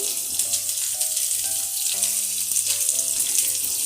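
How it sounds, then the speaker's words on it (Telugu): Sliced onions, green chillies and curry leaves frying in hot oil, a steady close sizzle with background music notes running throughout, no talk. "కొంచెం కర్రీ లీవ్స్ వేసుకుని శుభ్రంగా ఫ్రై చేసుకుందాం"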